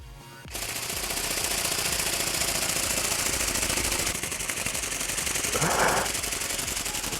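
A Go Go Bird RC flying-bird drone starts its flapping mechanism with a trigger press, breaking into a loud, fast, steady mechanical rattle that continues without pause.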